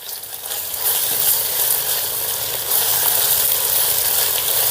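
Ginger garlic paste frying in oil with onions, a loud bright steady sizzle close by that thickens after the first second and holds without voices.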